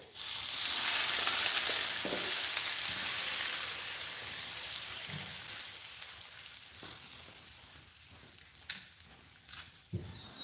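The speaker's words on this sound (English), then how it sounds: "Now I'm going to put these fish in there and kind of cook them through" White fish frying in butter with sweated onions, a loud broad sizzle right after the fish go in that slowly settles to a softer hiss, with occasional light clinks and stirring.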